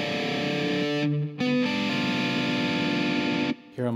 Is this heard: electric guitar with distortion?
yes